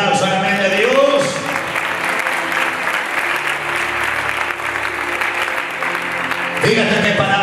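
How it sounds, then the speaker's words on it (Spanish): A church congregation gives a loud, sustained round of applause during a Thursday sermon, steady dense clapping with a few voices and shouts mixed in, fading back toward a speaking voice at the end. "den un fuerte aplauso al amén de Dios"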